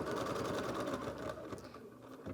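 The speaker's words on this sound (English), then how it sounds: "we'll sew the next stitch sequence here to tack that down" An embroidery sewing machine stitches a tack-down sequence for an in-the-hoop eyeglass case, a rapid, even mechanical whir of needle strokes, steady and fairly close, with no talking.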